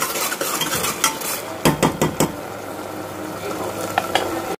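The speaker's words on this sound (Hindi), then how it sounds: "अदरक लहसुन का पेस्ट को हम अच्छे से भून लेंगे।" Ginger garlic paste frying with onions in a pan at home, a steady close sizzle with a few sharp clinks of a spoon stirring and scraping against the pan.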